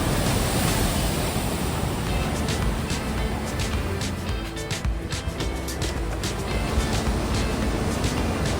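Ocean waves crash and roar continuously at a beach in Bali, a loud, broad wash of surf with wind buffeting the microphone.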